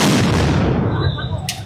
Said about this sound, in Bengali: কিভাবে একের পর এক সাউন্ড গ্রেনেড মারা হচ্ছে